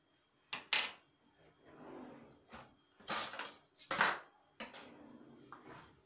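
A metal spoon clinks and scrapes against a bowl, stirring cherry juice mixed with a spoonful of starch, in a few sharp taps and swirling strokes close by in a quiet kitchen.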